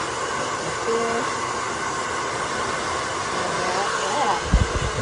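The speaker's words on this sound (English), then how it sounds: "I love this hair dryer." A hair dryer blowing steadily at close range, a loud continuous rushing whoosh used to dry fine hair upside down, with a few soft thumps near the end.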